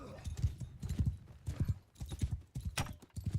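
In Mount & Blade II: Bannerlord, several horses clatter across rough ground, their hooves beating in dense, irregular bursts of close thuds with brief pauses, plus a sharper crack near the end.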